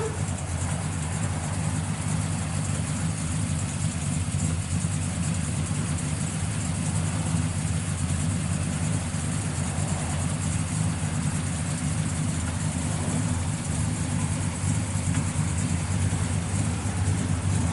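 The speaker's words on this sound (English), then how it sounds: "Fires right up. Got a nice built 396 in it." A 1966 Chevrolet Chevelle SS 396 with a built 396 V8 and Holley four-barrel carburetor idles steadily and loudly throughout, a continuous low rumble on a cold day.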